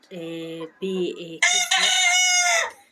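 Backyard chickens making a few short, close clucking calls, followed by a longer, brighter crow-like call that fills the last second and a half.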